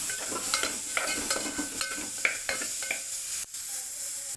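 A spoon stirs turmeric, coriander powder and chili powder into bitter gourd curry cooking in a pan, making soft repeated scraping strokes over a gentle sizzle, close and moderately loud.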